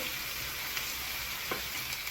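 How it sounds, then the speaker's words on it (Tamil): Steady, quiet sizzling of carrots, potatoes and onion frying in hot oil, a soft crackling hiss with a few faint stirring clicks. "இப்போ வந்து வெங்காயம் சொல்லி உருளைக்கிழங்கும் கேரட்டும் வந்து பொரிஞ்சிட்டு இருக்குது"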